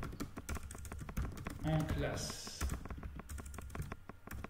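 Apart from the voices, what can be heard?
typing on a QWERTY/AZERTY computer keyboard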